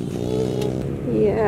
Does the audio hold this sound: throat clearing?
no